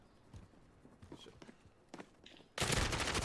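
Burst of gunfire in the video game Call of Duty Modern Warfare, a sudden loud dense volley arriving near the end after quieter scattered clicks and thuds.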